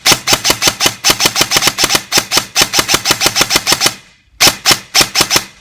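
An airsoft electric gun fires rapid bursts of loud, sharp, evenly spaced shots. The bursts run close together with one brief pause before two more short bursts, and no voices are heard.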